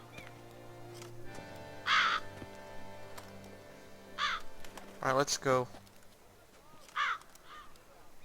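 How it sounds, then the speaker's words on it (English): Several crow caws ring out in The Witcher 3, in short bursts spread across the scene, some close and some further off, over a low ambient hum, with a voice speaking briefly. "Too many crows. Too many crows."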